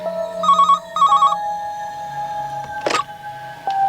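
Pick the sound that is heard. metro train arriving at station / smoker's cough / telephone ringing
telephone ringing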